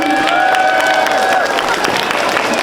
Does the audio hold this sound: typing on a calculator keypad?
no